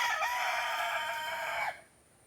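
A rooster crows loudly in a Texas chicken yard under a tarp-covered canopy, one sustained, strongly voiced call that cuts off abruptly, leaving near-quiet.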